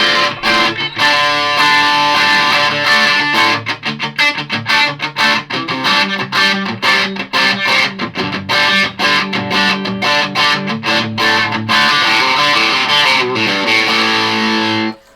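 Electric guitar on the bridge pickup with the tone turned full, played through a Boss OS-2 distortion pedal: loud, bright, heavily distorted chords and riffs played continuously, then cut off abruptly at the end.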